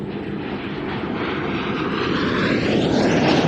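A fixed-wing aircraft flying a practice pass at a Leszno airshow, its loud engine roar holding steady and swelling slightly as it draws nearer, with no voices over it.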